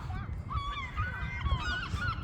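Seagulls calling at a beach in Largs, Scotland, a rapid run of harsh, honking squawks close by over a low background rumble.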